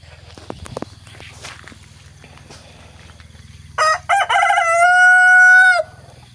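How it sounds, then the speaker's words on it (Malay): A mature rooster in a backyard coop crows one loud, drawn-out call near the end, clear and close, after several seconds of quiet footsteps and faint low hum. "Dia dah berkokok ni, maksudnya dia dah matang guys."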